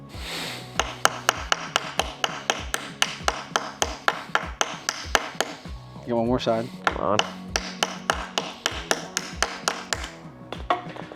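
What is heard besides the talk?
hammering with a 3D printed hammer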